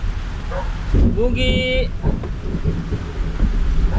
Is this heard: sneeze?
no